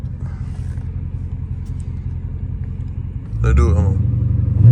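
A straight-piped Dodge Challenger Hellcat rumbles deep and loud inside a tunnel, a steady low drone that swells heavier toward the end while someone speaks briefly over it.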